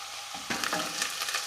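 Onions softening in melting salted butter for French onion soup, a close bright sizzle that swells after a short quiet start, with light stirring, no speech.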